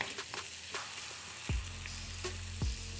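Prawn potli snacks fry in hot oil with a steady close sizzle, broken by a few louder bubbling bursts and faint splashes as pieces shift in the pan.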